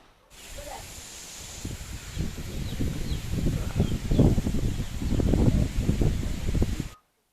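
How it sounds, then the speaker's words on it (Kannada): Strong wind buffets and roars in gusts, rumbling low and growing louder midway before cutting off abruptly, strong enough to turn a satellite TV dish. "ತುಂಬ ಗಾಳಿ ನೋಡಿ ಹೀಗೆ"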